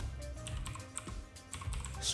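Rapid keystrokes on a computer keyboard while renaming a layer in After Effects: close, crisp clicks in quick irregular bursts, with a short pause partway through.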